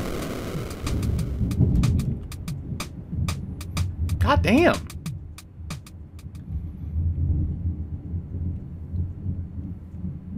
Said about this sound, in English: Still one continuous thunder.